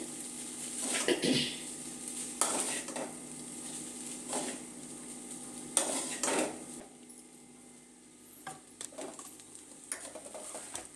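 A utensil stirs and scrapes Maggi noodles in a pan at home, a series of clinking metal knocks spaced a few seconds apart, fairly quiet, over a low background hum.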